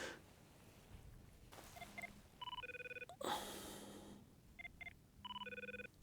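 Mobile phone ringing with an incoming call, a faint repeating electronic ringtone in short patterned bursts of beeps, heard outdoors on a mountain with a brief gust of wind noise between rings.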